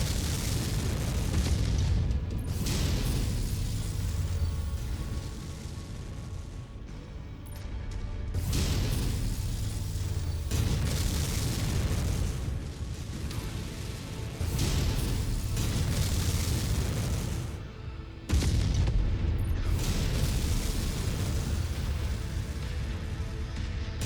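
LRM missiles fire and explode in the mech combat game MechWarrior 5: Mercenaries. Long, loud stretches of rumbling booms and blasts follow one another, broken by short gaps, with no talk over them.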